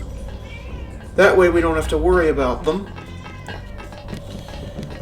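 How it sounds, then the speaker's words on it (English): A cat meows loudly in a drawn-out, wavering call of a few rising and falling notes indoors, with someone talking over a game before and after it. "That's the cat"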